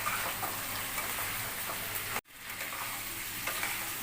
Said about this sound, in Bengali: আলু ভাজাগুলোকে দেওয়া হবে, দিয়ে ভালো করে কষিয়ে নিতে হবে